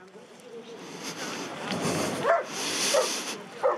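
A dog gives a few short yips and barks at close range over steady background noise and some talk.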